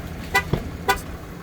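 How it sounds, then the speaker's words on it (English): A 2022 Ram 2500 Big Horn diesel pickup sounds two short warning beeps about half a second apart, close and moderately loud, with a faint knock between them. "So it's beeping at me because I got the keys in my hand."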